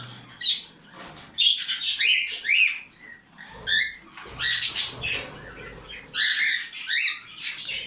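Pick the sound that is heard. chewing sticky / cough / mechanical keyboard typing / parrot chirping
parrot chirping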